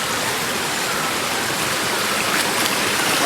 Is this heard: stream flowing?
yes